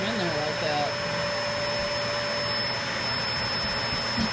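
A Eureka Optima vacuum cleaner runs steadily and loudly throughout, its motor drone continuous, while sucking up packing peanuts, with faint light rattles from the peanuts passing through the tube.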